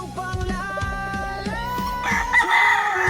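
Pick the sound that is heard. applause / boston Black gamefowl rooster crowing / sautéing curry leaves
boston Black gamefowl rooster crowing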